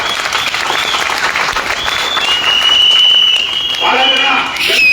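Crowd applause at a farmers' protest against forced land acquisition in Sarjapura hobli, broad steady clapping that stays loud through the whole stretch, with voices mixed in underneath.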